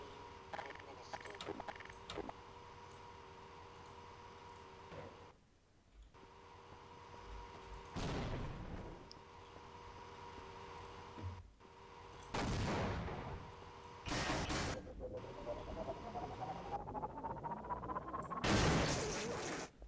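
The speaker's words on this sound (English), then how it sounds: "Some good real explosions." Grenade launcher explosions in the Half-Life: Source shooter game, several loud broadband blasts and bursts spread across the stretch over a steady in-game hum, with a voice talking in places.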